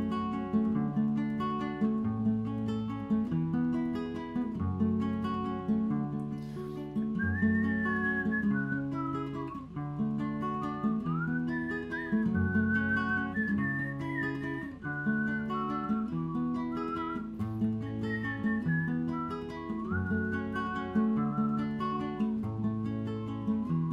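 A whistled melody solo serves as an instrumental bridge in a guitar-and-voice song. It rises and glides over steady strummed guitar chords, with clear sustained notes heard in several phrases.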